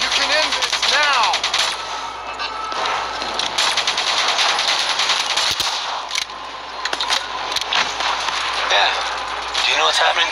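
A minigun blazing in Call of Duty Black Ops 3, a loud continuous rattle of gunfire over game sounds, with voices speaking through most of it.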